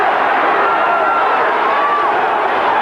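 Boxing arena crowd roaring in a steady, dense wash of cheering after an uppercut lands in the Duran versus Benitez fight, loud and continuous, with a commentator's voice faintly mixed in.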